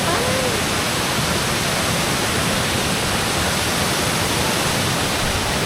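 Tumalog Falls in Oslob, Cebu pours in a loud, unbroken roar of falling water, dense and steady across the whole stretch, close enough to swamp everything else.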